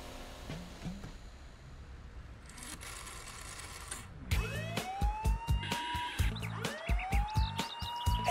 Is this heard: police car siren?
yes